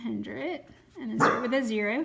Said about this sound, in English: Oh, that's my dog, he scared me.